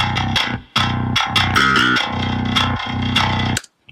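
A gritty, hand-played picked bass line from a Eurobass virtual bass guitar layer plays loud and alone in choppy, rhythmic notes with brief gaps, then cuts off abruptly.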